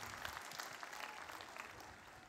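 Audience at the 2022 Morehouse School of Medicine commencement clapping hands, a steady wash of applause from many people, moderately distant and even throughout with no clear voices.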